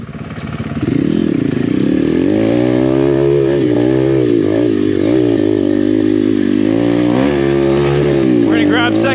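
A Chinese dirt bike climbing a steep hard-enduro trail in second gear, its engine droning loud and close with a wavering, rising and falling rev, and a voice briefly over it.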